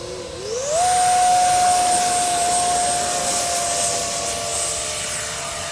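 A Freewing Vulcan RC model jet flies overhead with a steady high-pitched electric ducted-fan whine that rises sharply in pitch at the start and then holds, loud and close, with wind noise throughout.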